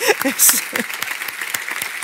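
An audience applauds the panelists after a Spanish-language dialogue between politicians and economists, a short spell of clapping under a voice speaking close by.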